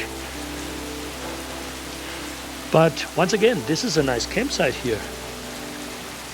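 Steady rain drums on a metal roof at a campsite in Franklin Mountains State Park throughout, with someone talking briefly over it partway through.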